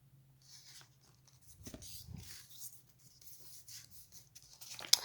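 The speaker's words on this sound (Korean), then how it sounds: "이렇게 접어주세요." Paper is folded and creased by hand while making a paper figure, giving faint rustles, soft rubs and light crinkles in short bursts over a low hum, quiet and close.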